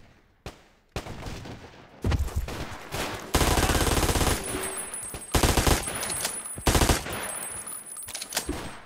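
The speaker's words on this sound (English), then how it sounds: "Who's firing at who?" Gunfire in the video game Ashes 2063, loud bursts of automatic fire and single shots that come and go in heavy volleys, close and dense, with no talking.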